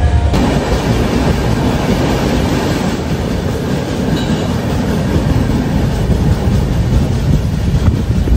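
A moving passenger train on a long-distance journey from Chirala to Panipat fills the space with a loud, steady rumble and rhythmic wheel clatter on the rails, constant and unbroken, with no voices.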